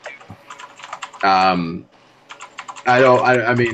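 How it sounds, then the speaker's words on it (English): Rapid clicks from a mechanical keyboard being typed on during a podcast recording, close and fairly loud, broken up by bursts of people talking between and over the keystrokes. "Interrupt us all with your mechanical keyboard, why don't you?"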